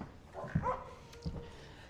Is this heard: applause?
no